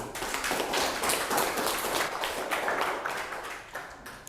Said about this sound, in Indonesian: Baik, bagus Chloe, tepuk tangan.